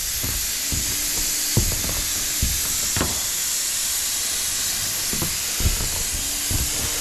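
Paint spray gun coating an old tin roof, giving a steady close hiss throughout, broken by occasional sharp clicks and knocks.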